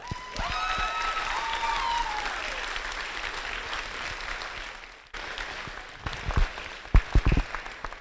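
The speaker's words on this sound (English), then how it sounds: "Give yourself a round of applause." Audience applause at a FIRST Tech Challenge robotics league tournament in Iowa, a sustained crowd clapping with some squeals and whistles early, then a brief dip and scattered louder claps as it tapers.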